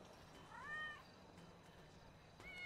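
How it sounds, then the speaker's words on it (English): A cat meows inside a fire station's living quarters: a rising-falling meow near the start, then a shorter one at the end, moderately close over quiet room noise. "Cat, quite nice."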